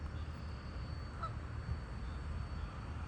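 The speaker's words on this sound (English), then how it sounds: "Little honk." A goose gives a single short honk from a distance on a calm, windless lake, faint against a steady low ambient hum with no talking.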